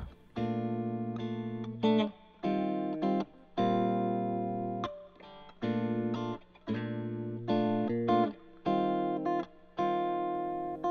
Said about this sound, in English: And an actual spring reverb.